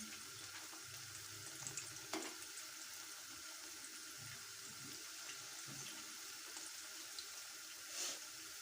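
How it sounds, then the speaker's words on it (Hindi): Potato chip aloo pakoras fry in hot oil, giving a steady, fairly quiet sizzle and hiss with occasional small crackles and pops throughout. "बस इसको हम 2 मिनट इसी तरह फ्राई करेंगे"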